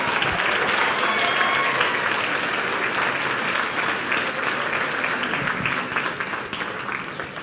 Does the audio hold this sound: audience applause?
yes